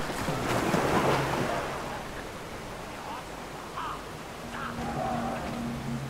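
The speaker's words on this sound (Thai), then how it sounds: "เฮ้ยนี่ไงน้ำตก" A waterfall in the video game Brothers: A Tale of Two Sons rushes as a steady broadband wash, with faint game tones and a voice talking briefly over it.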